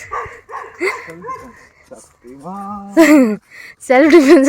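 Several yelping dog barks with a whiny, pitched quality, coming in short bursts between stretches of people talking nearby.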